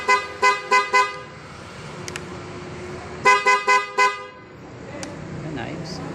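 A Euro Model T150 dual contact car horn sounds in two quick bursts of four short, loud toots, separated by a pause, with faint talk in the background.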